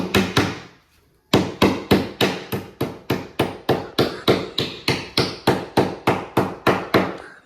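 A Corfix wall plug is hammered through a drilled hole that is slightly too small for it. Loud, close, steady blows repeat about twice per second after one brief pause near the start.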